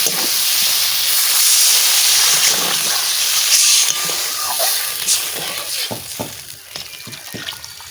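Water poured into a hot pan of fish curry with potatoes bursts into a loud, close, steamy hiss that roars for several seconds, then settles into softer bubbling with a few light clicks.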